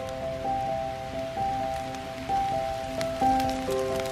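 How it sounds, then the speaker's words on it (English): Steady rain patters down on a soothing rainy day in Pennsylvania, a constant soft hiss of drops on surfaces with faint sustained tones running over it, no talking. "now it is a beautifully soothing rainy day in Pennsylvania"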